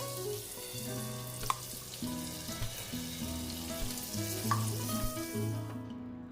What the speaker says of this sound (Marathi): कांदा टाकून आपण भाजून घेऊया